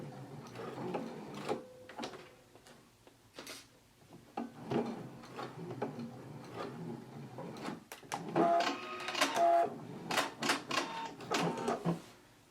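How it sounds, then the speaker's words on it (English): Sewing machine basting belt carriers onto a skirt, running in short intermittent bursts with stops and fabric handling between, close and moderately loud, with no voices. "you want to go to the machine and baste them in place"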